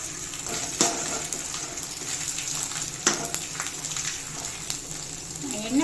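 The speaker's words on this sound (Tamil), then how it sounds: "இப்போ நீட்டாக வத்தல் பொறிச்சிட்டேன் கொஞ்சோண்டு ஜவ்வரிசி வத்தல் பொறிச்சிக்கலாம்" Sago crisps (javvarisi vathal) deep-frying in hot oil, a continuous bubbling sizzle with a few sharp clinks and scrapes of a utensil, close by.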